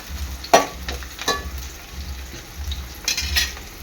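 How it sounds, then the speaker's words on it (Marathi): Onion frying in a pan while mutton rassa is being cooked, a soft sizzle with a few sharp stirring clinks and scrapes of a spoon against the pan, close and intermittent. "कांदा चांगला लाल होईपर्यंत शिजून घ्यायचा आहे"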